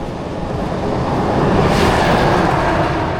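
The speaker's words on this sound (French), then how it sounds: "Gros camion." A big truck passes on a road beside a hiking trail in Québec, a loud broadband rumble and rush that swells toward the middle and stays close and steady with no voices.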